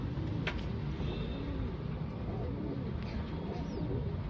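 Lal Chini pigeons coo in soft repeated rolling calls close by, over a steady background hum with a few faint chirps.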